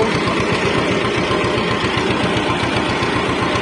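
A steady tractor engine drones loudly with a rapid rhythmic clatter from a spider hay tedder spreading cut grass, close by and continuous, with no voices.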